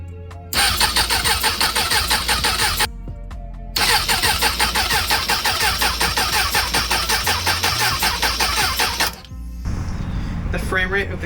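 A Suzuki Bandit 600 motorcycle engine cranks, catches and runs with a rough, loud, pulsing idle, cuts out briefly, restarts and runs again before stopping, then a popping backfire sounds near the end.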